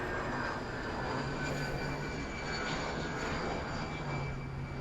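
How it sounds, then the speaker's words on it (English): A steady, loud roar of a jet taking off from Francis S. Gabreski Airport on Long Island, a broad continuous engine rush that holds at even strength throughout, with no speech. "I missed that jet."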